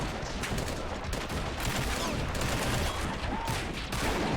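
Rapid, dense gunfire from a flintlock machine gun in a plastic army men battle game, a loud continuous clatter of shots with crackling bursts throughout.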